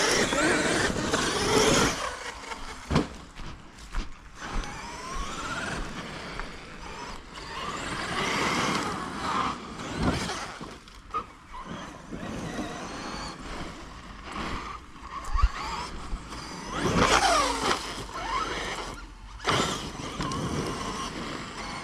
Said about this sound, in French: Toujours coupure, t'as vu là? Il s'est arrêté net avant de remettre gaz.